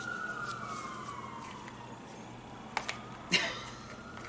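Distant emergency sirens wail faintly in the background, a slow falling tone, with a couple of sharp clicks and knocks nearby.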